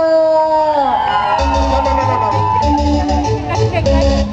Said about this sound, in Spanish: Que se escuche el grito de la playa.